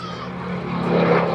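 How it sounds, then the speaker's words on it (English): The piston engine of a Supermarine Spitfire Mark 14 from the Rolls-Royce Heritage Collection gives a steady droning roar at an air display, a continuous rumble that swells slightly louder over a moment. "This is part of the Rolls-Royce Heritage Collection. Spitfire Mark 14"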